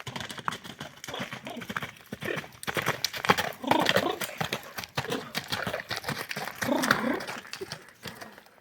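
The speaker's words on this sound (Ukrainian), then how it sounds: "Кінь великий, тяжкий, але рухи такі має, страшні рухи має." A large, heavy work horse moves nearby, its hooves clip-clopping in an irregular, steady rhythm that stays fairly loud throughout, with people talking over the hoofbeats.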